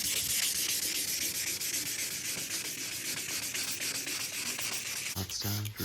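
Wet sanding faded clear coat on a BMW E36 roof by hand with fine-grit sandpaper, a close, continuous rhythmic scratchy rubbing with steady back-and-forth strokes, ending in a few brief knocks.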